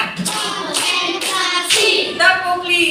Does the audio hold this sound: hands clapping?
yes